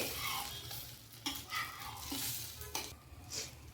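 A ragi amboli, a soft finger-millet pancake, cooks in oil on a pan, giving a low steady sizzle with occasional gentle scraping taps, fairly quiet and close, with no voices.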